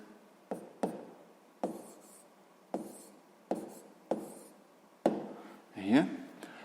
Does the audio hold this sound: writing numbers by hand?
yes